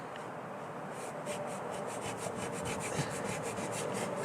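A squeegee sweeps in repeated short, even strokes across a vinyl American flag decal on a truck, giving a steady close rubbing and scraping texture with no voices.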